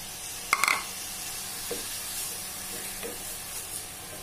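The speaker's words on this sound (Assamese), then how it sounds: "অলপ দেৰি মই এনেদৰে ভাজি থাকিম।" Tomato paste frying with ginger and onion in a pan, with a soft hissing sizzle, an early sharp clatter and a few light stirring scrapes.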